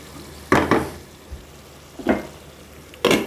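Panch phoron spices drop into cooking pickle-style beef, giving three short bursts of sizzling crackle separated by quiet gaps, with faint pan knocks between them.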